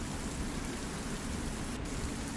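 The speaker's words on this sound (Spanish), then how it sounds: "empiezan a caer gotas de lluvia adentro de lo que hay de esa crisálida" Steady rain falls evenly as a continuous broadband hiss, used as a sound effect in a tabletop Dungeons & Dragons session, with no voices over it.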